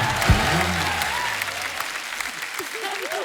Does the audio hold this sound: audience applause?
yes